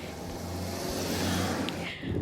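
A car pulls out to set off on a road trip, with a steady, fairly loud low engine rumble that swells slightly toward the end, heard on its own without talk.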